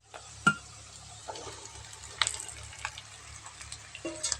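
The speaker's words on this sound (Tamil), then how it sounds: "பெரிய வெங்காயத்தை வந்து பொடியாக கட் பண்ணி இதில் சேர்த்துருக்கேன் ஸோ இது நல்லா வதங்கி வரட்டும்" Finely chopped large onions sauté in a pan for a kara kuzhambu, giving a low sizzle broken by soft clinks and scrapes of stirring, close by with no talking.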